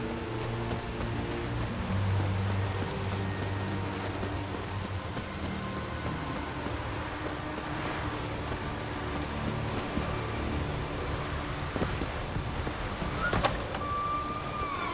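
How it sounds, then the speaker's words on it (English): Steady, dense rainfall in The Witcher 3 video game hisses continuously, with a faint low rumble of distant thunder and a few brief clicks near the end, and no voices. "Looks like rain."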